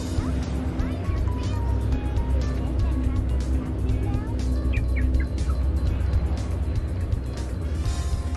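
Steady roar of cars in a Sonic Adventure DX stage, a loud continuous engine and road drone with people talking over it throughout.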